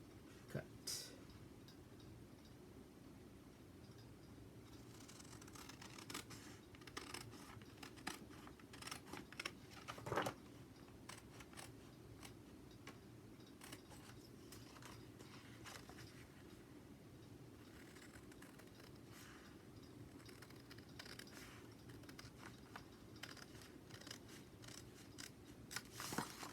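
Scissors snip through a paper sewing pattern for a front and back bodice draft, giving steady, close crisp cuts that run throughout over a constant low background hum.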